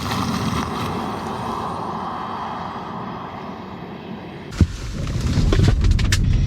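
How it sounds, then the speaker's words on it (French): An MG Marvel R Performance 2021 electric SUV accelerating in sport plus mode: a steady broadband rush of road and wind noise inside the cabin, with a sharp knock near the end before the roar rises again. "Là on va se mettre évidemment en sport plus, c'est ce qui nous intéresse vu que c'est la version performance. Et on va se faire des petites accélérations."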